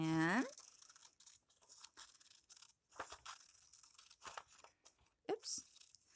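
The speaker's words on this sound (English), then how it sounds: "So you just got to cut out your circle" Scissors cut a circle out of paper for a pop-up tree card: a run of short, crisp snips and crinkles, fairly close and quiet, with brief pauses between cuts and no voices.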